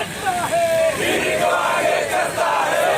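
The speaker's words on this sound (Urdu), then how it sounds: "مرکزی حکومت کے خلاف جم کر نعرے لگائے" A protest crowd chants slogans against the central government in support of Rahul Gandhi, loud massed voices shouting in rhythmic bursts, with individual cries rising above the roar.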